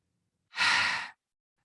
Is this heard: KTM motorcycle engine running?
no